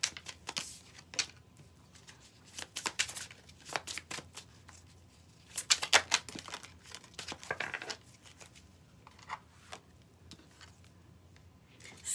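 Tarot cards are shuffled and laid down close by in quiet, uneven bursts of riffling and soft slaps, with short pauses between handfuls and no talk over them.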